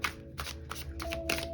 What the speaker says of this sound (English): we're going to do a live shuffle